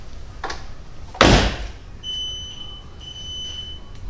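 A Fiat Punto GT's alarm sounding as the car locks, a single loud thunk followed by steady high electronic beeping tones repeating at a moderate distance.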